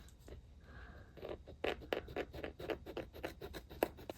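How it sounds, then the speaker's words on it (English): Small scissors snip and scratch at felt on a composition notebook cover, giving a quiet series of short crisp cuts and rustles, close up and alone. "Maybe I can clean that up just a little bit better here with my little scissors."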